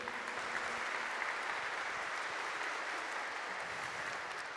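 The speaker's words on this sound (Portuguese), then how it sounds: "Uma salva de palmas à palavra do Senhor." Steady, dense applause fills a Catholic sanctuary as the congregation claps for the Gospel reading at Mass, continuous and even for several seconds with no voices over it.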